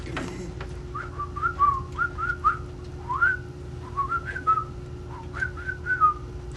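A person whistles an imitation of a mockingbird's song: quick chirping, warbling phrases repeated in bursts, clear and close against a quiet background with a faint hum.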